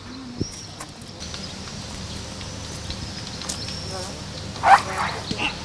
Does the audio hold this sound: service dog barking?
yes